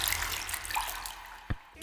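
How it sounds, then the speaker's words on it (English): Water poured onto a face in an anime scene gives a steady close splashing wash that fades out, followed by a brief thump and a final splash. "Just pours water on his face."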